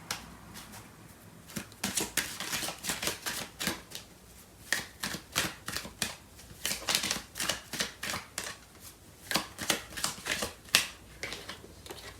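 Tarot cards being shuffled by hand, a run of quick papery riffles and flicks in irregular bursts, close up and fairly quiet, with no talking.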